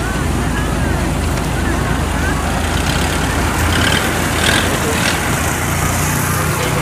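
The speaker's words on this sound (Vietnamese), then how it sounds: "Rồi tiếp theo ghe bầu chở gạch luôn." A low, continuous engine rumble from a passing cargo boat carrying bricks through a canal lock, mixed with wind noise and water, with a faint voice briefly audible.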